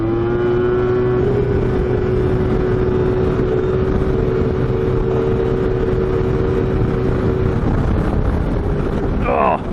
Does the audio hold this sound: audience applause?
no